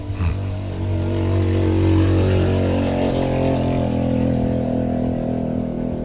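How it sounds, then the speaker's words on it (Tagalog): A passing motorcycle engine drones loudly and close, near a house, its steady mid-pitched rumble swelling a little and then holding without fading away. "Yan ang ingay ng motorsiklo na dumadaan mga palangga."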